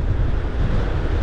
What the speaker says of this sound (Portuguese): É a Praia da Maçambaba também recebendo aí o mar agitado, né, recebendo o vento maral, a ressaca.